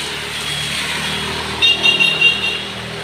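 A Fuso Euro4 truck engine labors while reversing on a slippery, rain-soaked road, a steady motor drone with a few short rising bursts of revving near the end.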